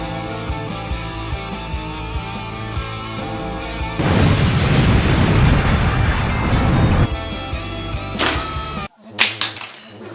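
A K'nex Super Mario scene carries a loud boom as a rocket launcher fires and explodes, a sustained blast over background music, followed by a sudden cutoff and a couple of sharp pops.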